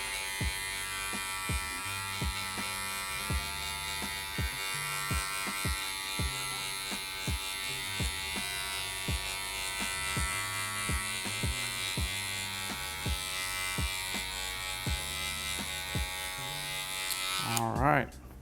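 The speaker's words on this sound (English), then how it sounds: "I'm using the Oster 76er." Oster 76 electric hair clippers cutting a bald fade, giving a steady, close buzzing hum that runs throughout with small shifts as the blade moves through hair.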